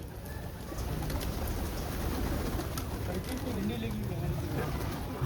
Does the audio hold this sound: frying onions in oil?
no